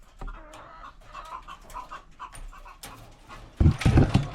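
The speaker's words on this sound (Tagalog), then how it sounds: "pasok tayo dito sa aking manukan" Chickens in a coop cluck softly in quick bursts nearby, then one bird lets out a louder squawk near the end.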